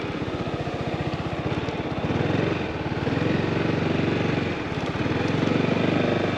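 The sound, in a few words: motorcycle engine while riding through cone weave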